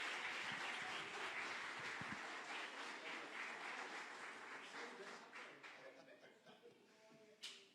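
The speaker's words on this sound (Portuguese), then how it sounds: "Dê uma salva de palmas." Applause from a church congregation, a dense wash of clapping that starts full and gradually thins and fades, with voices and a few scattered claps at the end.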